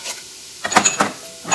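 Black lentils and chickpeas dry-roasting in a hot pan for tomato rice give short, close bursts of sizzling hiss mixed with light stirring scrapes, with quiet gaps between them and no talking.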